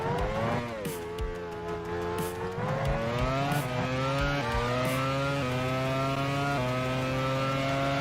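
An old Formula 1 race car engine drives past with a steady, high-pitched harmonic whine that rises and falls as it shifts through gears. It stays loud and continuous throughout, with no voices.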